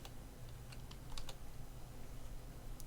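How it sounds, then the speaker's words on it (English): Quick light keystrokes on a computer keyboard tap out a short command in scattered clicks over a faint steady hum, with no talk. "in the box here type in msconfig"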